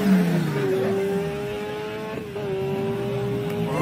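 A BMW engine revs hard with a steady, loud, sustained roar and rising and falling pitch that carries through to the end, with no voices.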